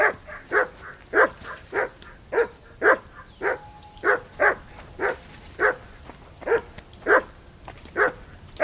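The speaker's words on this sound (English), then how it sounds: "That barking was a pain in..." A hound barks repeatedly in Kingdom Come Deliverance II, sharp evenly spaced woofs at a steady rhythm, fairly close and loud with no talking over them.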